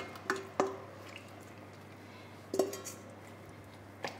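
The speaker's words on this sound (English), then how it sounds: "The beef is going to go in at this point." Beef drops into a pot of beef stock for beef and barley soup, giving a few soft wet plops and clinks spread apart against a quiet kitchen hum.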